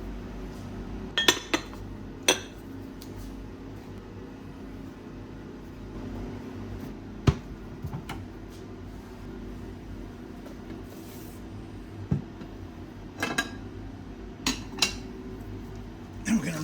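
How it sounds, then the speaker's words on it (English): Equipment from pure silver bar refining being rinsed and cleaned up, with sparse, faint metallic and glassy clinks scattered over a quiet, steady background hum. "we'll rinse it off, get the silver solution off there, and then I'll clean this all up"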